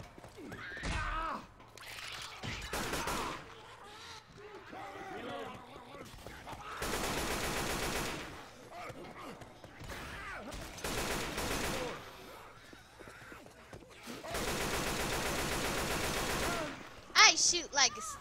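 Repeated bursts of automatic gunfire from Left 4 Dead 2 on hard mode come in several long sustained volleys with scattered single shots between them, while players talk over the action.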